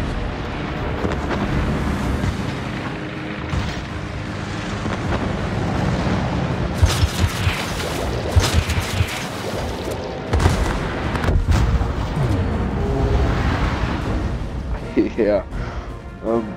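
Ship explosions and gunfire boom repeatedly in the naval battle video game World of Warships, loud heavy blasts layered over continuous battle noise and music, with someone talking over parts of it.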